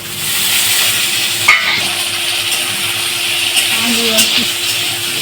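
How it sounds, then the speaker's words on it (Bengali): Potatoes and onion fry in a pan with a steady, loud broadband sizzle and hiss throughout, close up, with only a few faint clinks. "এবার আমরা এই আলু আর পেঁয়াজটাকে ভালো করে ভেজে নিচ্ছি"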